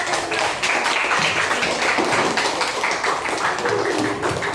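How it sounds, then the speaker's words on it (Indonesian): Children in a classroom clap together in a dense, sustained round of applause that stays loud and even from start to finish. "Beri tepuk tangan untuk"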